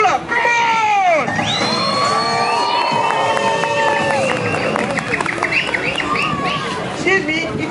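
A street crowd near the London Eye at a South African dance show erupts in high-pitched screaming and cheering, with children's shrieks and whoops layered over loud, sustained crowd noise and scattered clapping.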